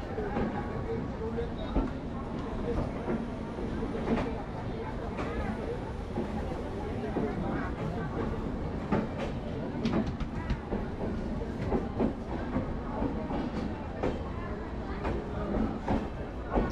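A train to Puri rumbles along steadily with rhythmic rail clatter, while voices murmur and talk in the background throughout.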